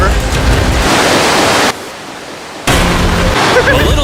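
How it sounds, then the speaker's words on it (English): A river rushes through a cave as a loud, dense, continuous roar of water that drops away briefly mid-clip and then returns at full strength. "this river actually runs throughout the entire cave"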